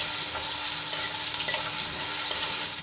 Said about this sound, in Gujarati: બે થી ત્રણ મિનિટ આપણે એને તેલમાં સાંતળી લઈશું